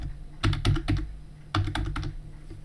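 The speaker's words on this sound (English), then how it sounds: "Just type your new password in here." A new password is typed on a computer keyboard, two quick clusters of close, crisp key clicks with a short pause between and no speech.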